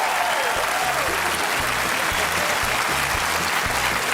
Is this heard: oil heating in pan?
no